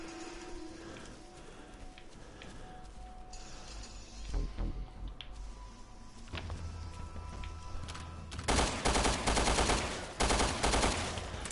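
Gunfire in the video game Resident Evil Revelations 2, a few sharp shots midway followed by heavier, louder bursts toward the end over a constant mechanical game ambience.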